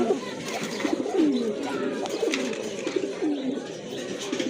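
A pair of blue satin pigeons on a farm gives a couple of low rolling coos close by, over a steady background hum of the loft.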